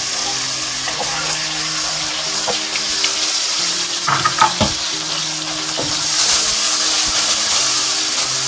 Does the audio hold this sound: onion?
yes